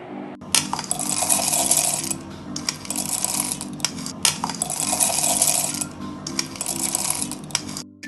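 Roasted peanuts pour into a mixer jar in three clattering bursts, a bright rattle of hard nuts striking the jar with brief pauses between pours, close and alone.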